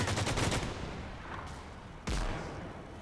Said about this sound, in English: hey, we're shooting back